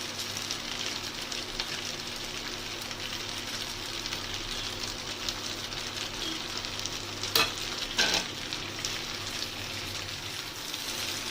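Fried eggs being stirred into spicy pasta in a home kitchen pan, with a steady sizzle and frying crackle running throughout and a couple of sharp scraping clicks near the end.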